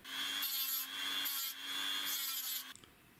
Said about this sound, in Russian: Ложим сюда сверло и подводим его к диску.